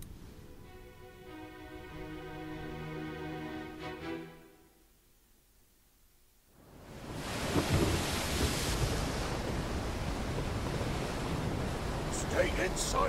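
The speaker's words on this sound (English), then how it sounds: "This storm is the devil's work." Thunderstorm with rain and sea from the video game Return of the Obra Dinn, a steady roar of rain and surf swelling loud after a brief quieter lull, with musical tones fading underneath at the start.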